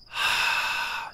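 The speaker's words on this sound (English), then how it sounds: "Exhale the sound ha" A single long breathy exhale voiced as a soft "ha" during qigong breathing for the lungs, close and quiet, lasting about a second with no other sound.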